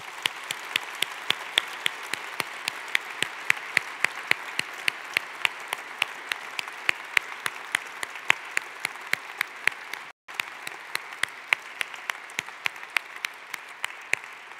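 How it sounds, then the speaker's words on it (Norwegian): Sustained applause from a large audience fills Oslo Cathedral, dense steady clapping with sharp individual claps standing out, briefly cut off near the end before continuing. "en skikkelig applaus"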